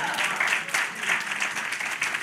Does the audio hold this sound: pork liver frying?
no